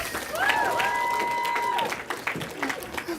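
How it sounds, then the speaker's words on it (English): Studio audience applause on a television talk show as an actress is welcomed on stage, a steady wash of clapping and light cheering lasting several seconds, with voices and a short tonal sound rising over it. "Let's give it up for Adeline herself, Miss Blake Lively."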